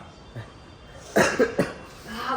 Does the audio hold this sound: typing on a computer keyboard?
no